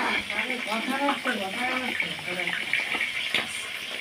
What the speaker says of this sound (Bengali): তো এই পটলগুলোকে এবার ভাজতে থাকি